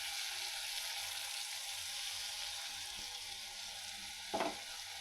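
Spice paste fries with tomatoes in a wok, a steady loud sizzle with a brief stirring scrape near the end, close up and with no voices.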